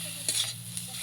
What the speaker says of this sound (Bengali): এখন আমি আলুটা ভালো করে ভেজে নেব,